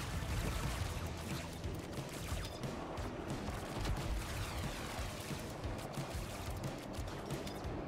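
Gunfire rattles through a video game hovercraft battle in dense, continuous bursts, with loud overlapping shots and booms over a constant engine roar and no clear gaps.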